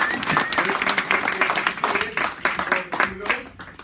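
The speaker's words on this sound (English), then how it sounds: "I want to give Richard a round of applause for doing an awesome job" An audience claps in a round of applause, a dense, steady patter of many hands that holds throughout, with voices talking and calling out over it.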